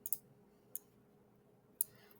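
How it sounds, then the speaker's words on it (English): A few sparse keyboard clicks from typing Arduino code on a computer, three isolated taps spaced irregularly, close and fairly quiet against a faint steady hum. "I'm just typing it out for you."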